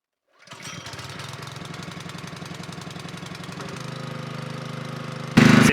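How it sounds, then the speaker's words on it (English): A generator at an off-grid homestead barn starts and runs with a steady, close, chugging engine drone that shifts pitch partway through, then ends with a sudden louder burst. "So now it's just time to turn the generator on and fill her up."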